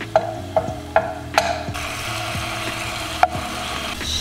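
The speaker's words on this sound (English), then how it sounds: "we're just gonna mix her around" Garlic stirred around a hot frying pan: several sharp, evenly spaced knocks and scrapes of a utensil over a steady sizzle, close by and without talk.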